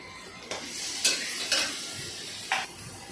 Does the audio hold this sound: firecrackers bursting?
no